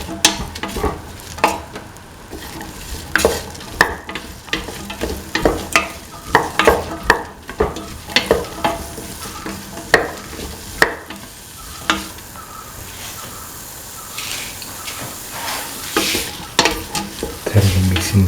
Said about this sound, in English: Mix in the tomato pieces thoroughly.